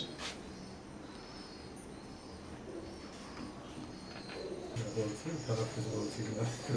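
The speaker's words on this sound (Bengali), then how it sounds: "ভিউয়ার্স এখন স্ক্রিনে যে কবুতর জোড়া দেখতে পারতেছেন" A pair of imported-bloodline Teddy pigeons coo in low, repeated murmurs, with faint insect chirps in the background and someone talking over them.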